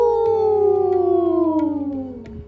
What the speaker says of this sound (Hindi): the fox couldn't resist joining in and howled as well